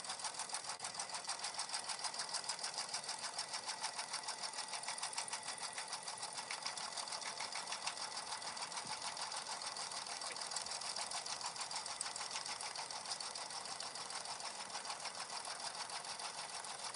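A sewing machine runs steadily, stitching a wide satin stitch around fabric patches, a fast even whir close up for the whole stretch with no talking.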